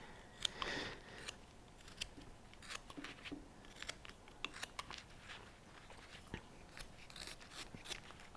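A knife carving wood, trimming the side of the hat on a stocking cap snowman carving, makes scattered short, crisp shaving cuts, close but quiet.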